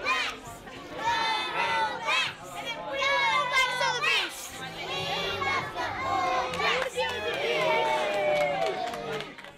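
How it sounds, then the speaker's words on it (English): Crowds of primary school children chanting and cheering for the All Blacks rugby team, a dense continuous mass of high excited shouts and yells, loud and close throughout. "hordes of school children running around chanting and cheering for the All Blacks, holding placards"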